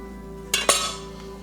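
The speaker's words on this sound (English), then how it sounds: "Let's crack an egg in there." An egg is cracked against the rim of a bowl holding a grated potato mixture, two quick, sharp knocks close by, followed by a short ringing decay over a steady background hum.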